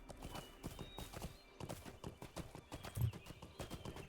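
Horse hooves in the video game LOTRO, a quick, even clip-clop of repeated hoof strikes at a steady trotting rhythm, fairly quiet, with a brief whinny near the end.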